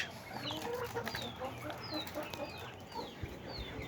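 Chickens cluck and chirp repeatedly at a farm where hens have new chicks, short scattered calls overlapping at moderate distance against low background noise.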